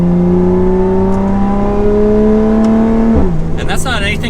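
A Lotus Evora 400 engine revs up steadily, its tone climbing smoothly for about three seconds before dropping sharply as the revs fall away, loud and close with a brief burst of higher noise at the end.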